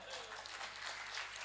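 Distant audience applause at a Hindi comedy show, a steady wash of clapping that is quiet and continuous throughout.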